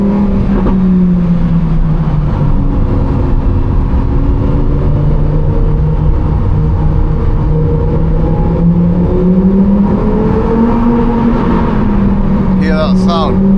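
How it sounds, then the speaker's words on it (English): A Lamborghini Huracan Performante's V10 in Corsa mode drones loud and steady from inside the cabin, its tone rising and falling slightly as it holds revs for over ten seconds. Someone speaks over the engine. "About to hear the V10 stream."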